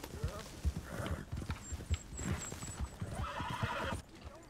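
Horse hooves clip-clop in an uneven trotting rhythm in Red Dead Redemption 2, with a whinnying neigh breaking out near the middle and another toward the end, the hoofbeats close and steady throughout.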